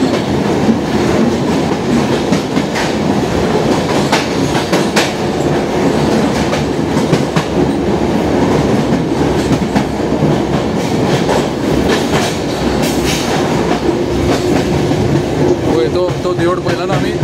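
The Vasco da Gama–Vellankani Express is heard up close and loud as a train running on the line, giving a continuous rumble with rhythmic clicking from the wheels on the track and no distinct talk.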